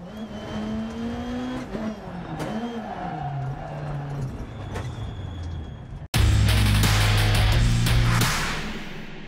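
A race car engine in a Dirt sim racing video game drones and revs through a corner, then cuts briefly on a gear shift and bursts back much louder, with tire noise beneath and no talking.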